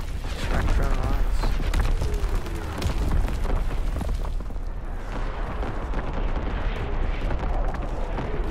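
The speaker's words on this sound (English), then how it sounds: "Incoming enemy artillery." Artillery shelling in the online shooter Call of Duty WW2: repeated heavy booms and rumbling blasts over a dense battlefield din, with a voice speaking over the noise.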